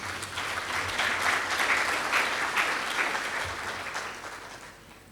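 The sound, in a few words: audience applause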